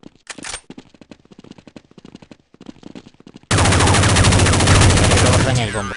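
Counter-Strike 1.6 gunfire: a rattle of quick, clipped shots at first, then a loud, dense sustained automatic burst lasting about two seconds that dominates everything, with a voice heard briefly.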